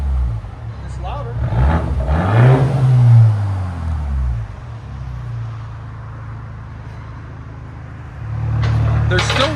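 A 2024 BMW X1 M35i 2.0L turbo running an open exhaust blips once loudly nearby, settles into a steady idle, then begins to rise again at the end while people talk.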